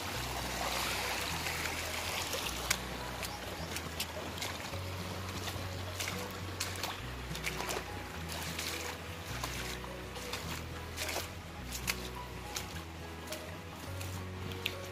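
Rain-swollen water rushes and gurgles continuously through a small stream during heavy monsoon rain in Kankavli, Sindhudurg, Konkan, a close, steady flow with a low rhythmic thumping underneath.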